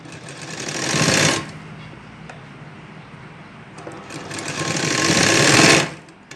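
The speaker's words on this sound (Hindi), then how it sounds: "मशीन का ये जो पेयर है उसके हिसाब से सिलाई लगानी है।" A sewing machine stitches along the folded edge of a top in two loud, close runs of fast mechanical whirring and chatter, separated by a quieter pause.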